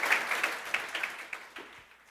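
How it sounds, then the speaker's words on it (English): A small audience claps for a team coming up to present at a beverage showdown, light scattered applause heard at a distance that tapers off over two seconds. "Yeah, round of applause, come on."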